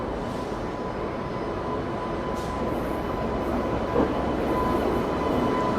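A pair of WAP-7 electric locomotives pulls away under a shunting signal, a steady broad rumble with a faint electric hum, fairly close and continuous throughout.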